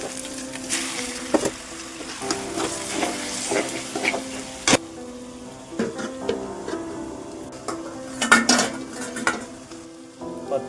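Chicken frying in a pan for a chicken fry or gravy, stirred now and then with a utensil: a steady sizzle runs throughout, with repeated scraping and clinking of metal against the pan, close and fairly loud, with no talking.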